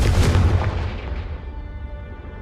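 A Confringo blasting spell in Hogwarts Legacy detonates with a loud, close burst of deep rumble that decays steadily over about two seconds, with no talking over it.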